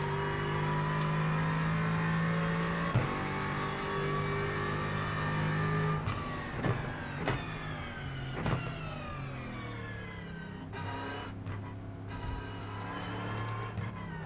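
New Aston Martin race car in the iRacing simulator, engine loud and close, revs climbing steadily through the gears with sharp shift cuts, then rising and falling in quick bursts as it brakes and accelerates.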